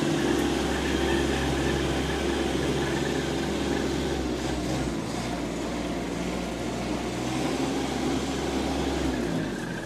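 A 2020 Kubota B2401D compact tractor runs in gear with a steady low diesel drone and mechanical hum, constant and fairly close, no speech.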